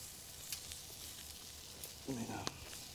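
Steak pinwheels frying over an open fire, a soft steady sizzle with faint crackles and a few brief clinks, quiet and close, with a voice briefly speaking.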